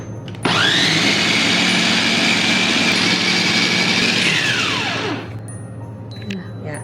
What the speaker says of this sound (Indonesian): Kalau pakai chopper tuh lebih gampang.